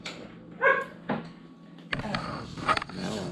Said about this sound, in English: You hear your puppy? Hear the puppy?